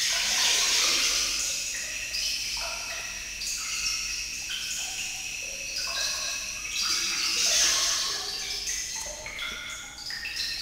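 Dense, bright synthetic droplets made in Unreal Engine 4 patter and plink continuously in overlapping streams, like water dripping quickly into a sink, with no voices.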